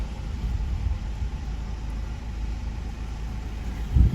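A car at a driving test area in Bayrampaşa backing up, a low steady engine rumble with faint road noise at a constant level and a brief thump near the end, with no voices.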